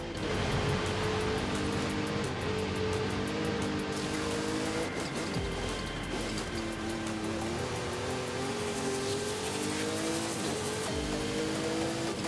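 Car engine accelerating in the racing game Forza Horizon 5, a continuous loud driving roar with shifting engine pitch and occasional tire noise, filling the whole stretch without talk.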